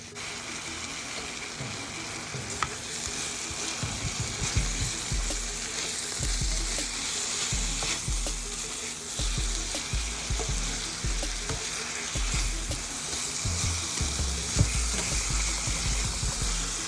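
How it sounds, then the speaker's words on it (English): Oyster mushrooms and vegetables frying together in a skillet, a continuous close sizzle with frequent soft stirring clatters and scrapes throughout, no voices. "you're going to combine the oyster mushrooms with the vegetables in the same skillet"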